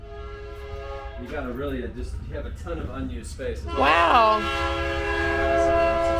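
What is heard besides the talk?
train passing with horn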